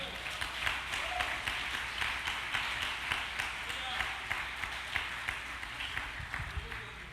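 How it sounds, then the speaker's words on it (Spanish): A church congregation applauds during a service, a steady wash of many hands clapping that continues throughout. "Den un aplauso al Señor."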